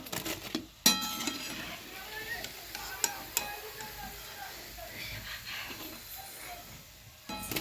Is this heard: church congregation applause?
no